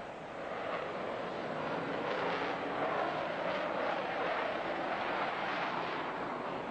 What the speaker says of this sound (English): 4 Vulcans airborne within the minute.